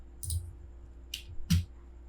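Three sharp computer mouse clicks, close and fairly quiet, spaced across a short moment of drafting work in AutoCAD, with no talk.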